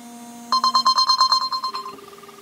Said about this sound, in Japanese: リンクで電話してみようと思います。